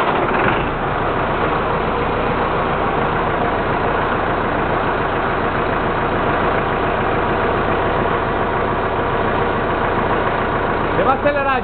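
A tractor engine started and left idling in neutral to warm up, a steady close low rumble that holds a constant throbbing idle from start to finish.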